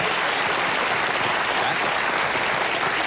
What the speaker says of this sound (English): Did somebody press the applause sign?